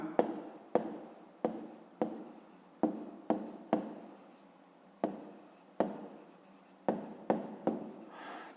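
A pen taps and scratches on paper in short bursts during a fifth-grade maths exercise on a rectangle's perimeter, each stroke a crisp attack that fades, close and quiet with pauses between words.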